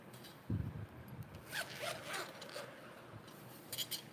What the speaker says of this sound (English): to blend this shade, you can use any blending tool. I am using this earbud.